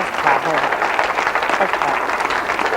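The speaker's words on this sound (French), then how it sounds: "vous pouvez l'applaudir, vous pouvez l'applaudir parce que bravo" Audience applause at a bar performance, a dense continuous patter of clapping throughout the short stretch, with voices mixed in underneath.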